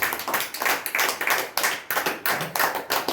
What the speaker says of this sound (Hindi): ताली बजाएंगे खुदा के नाम के लिए